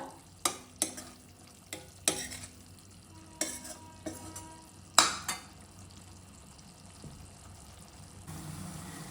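Tamarind rice paste fries in oil over a low flame with a soft, faint sizzle, broken up by several sharp scraping stirs of a spoon against the pan.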